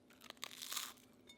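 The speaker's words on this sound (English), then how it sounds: "It tastes delicious. It's nice and crunchy." A bite into crunchy fermented gluten-free dosa flatbread, a short close crackle and crunch building over about half a second, then quiet.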